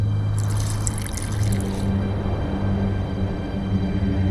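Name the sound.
water being poured into a mixture, from video game The Witcher 2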